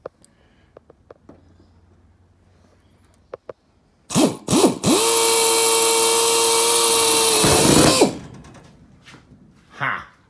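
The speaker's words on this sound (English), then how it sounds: "Now, the fun part of just drilling it and making it fit." A power drill drilling metal whines loudly and steadily for about four seconds after a couple of short bursts, with faint tapping before and a click after.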